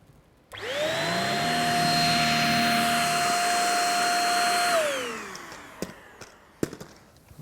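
A Dyson DC59 cordless vacuum cleaner with a V6 motor and two-tier cyclones runs over fine dust on a hard floor, a loud steady whine that starts abruptly and holds for several seconds before spinning down, followed by a few scattered clicks and knocks.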